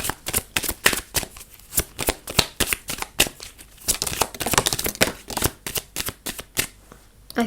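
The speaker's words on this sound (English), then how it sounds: "I'm going to shuffle them all so it's okay." A deck of message cards is shuffled close up, with rapid, rhythmic riffling bursts repeating steadily throughout, crisp and loud, and no talking.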